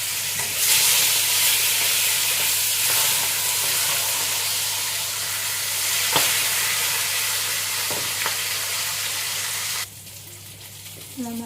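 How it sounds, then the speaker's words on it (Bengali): Hilsa fish heads fry in smoking-hot oil in a kadai, a loud continuous sizzle with occasional stir scrapes that drops away abruptly near the end. "আর আমি এখন এই ইলিশ মাছের মাথাগুলো একটু হালকা ভেজে নেব।"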